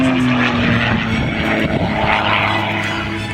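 A Cap 580 aerobatic airplane flies maneuvers at an air show, its propeller engine droning loud and steady with a slowly shifting pitch throughout.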